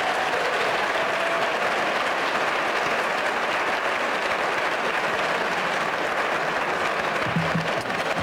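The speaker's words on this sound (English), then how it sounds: "I know you were just clapping" Conference audience applauding after a keynote address in a hall, a steady, full round of clapping from many people that holds at the same level throughout.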